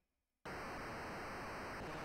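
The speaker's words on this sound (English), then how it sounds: "Ooh, there's that white noise." Harsh, steady white-noise hiss from a stereo in the video game Maniac Mansion, starting abruptly after a brief quiet moment and holding loud and unbroken.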